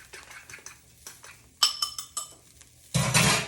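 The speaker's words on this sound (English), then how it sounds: "throw in my egg whites" Egg whites poured into a hot pan for an arepa scramble, preceded by a few clinks of utensils and cookware, then a sudden loud sizzle close by.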